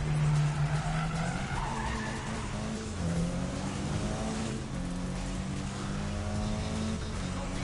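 Car tires in a PS4 racing video game squeal and skid through a drift, long screeching slides over a steady engine drone, loud and continuous, with a faint hint of a voice underneath.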